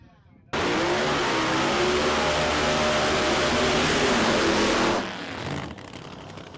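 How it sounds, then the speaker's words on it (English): Two drag racing door slammers do tyre burnouts on the strip, a loud continuous engine roar and tyre squeal holding steady for about four and a half seconds before dropping away abruptly. "Both cars get a nice burn on the tyres."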